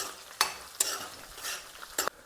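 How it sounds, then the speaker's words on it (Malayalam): Pickle with curry leaves sizzles in a pan while a spoon stirs it, three or four sharp scraping strokes over a low, steady frying crackle. "ഇനി ഇതിൽ നല്ലപോലെ ഇളക്കി കൊടുക്കുക"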